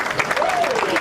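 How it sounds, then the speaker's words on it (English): Warm applause rings out for a presenter at a community association anniversary fundraiser, a dense, steady crowd clapping for about a second. "she deserves a round of applause"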